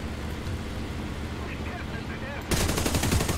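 Rapid machine-gun bursts from a Yak-1B fighter armed with 20 mm cannon and .50 cal guns in a flight combat game, a steady roar of fire that grows denser and louder near the end, with engine noise beneath.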